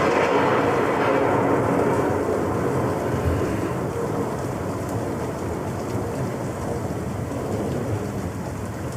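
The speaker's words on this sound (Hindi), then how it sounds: "ये तूफान कब खत्म होगा यार?" Heavy rain pours in a steady hiss during a storm, with low rumbling thunder rolling beneath it throughout, loud and continuous with no speech.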